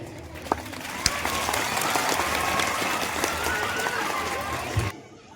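A crowd at an Independence Day poetry recitation applauds continuously, a dense, fairly loud wash of claps with a few sharp louder claps, ending abruptly.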